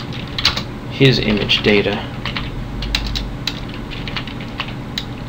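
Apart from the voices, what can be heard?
typing on a computer keyboard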